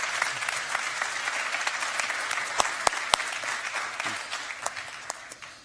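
A conference audience gives a long, steady round of applause for the presidents of Georgia and Ukraine at a NATO event, a dense wash of clapping with a few sharp close claps before it fades out.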